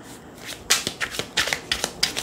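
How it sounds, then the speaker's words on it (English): Tarot cards shuffled by hand in small stacks, giving a run of crisp riffling bursts repeated in a steady rhythm, close and moderately loud, with no talking. "I've got these in stacks. That's how I shuffle them."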